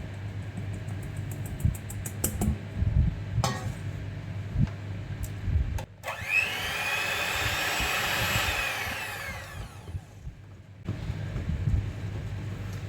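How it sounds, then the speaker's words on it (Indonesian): An electric mixer works through 500 g of flour dough for martabak, its motor droning steadily with a rising whine in the middle, alongside a low hum and scattered clicks and knocks, moderately close. "seberapa lama mixer untuk adonan 500 gram"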